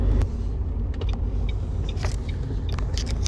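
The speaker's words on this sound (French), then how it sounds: "Voilà, le véhicule s'arrête." A car on a narrow street gives a steady, close low engine rumble that holds without a clear change, with faint mechanical clicks above it and no voices.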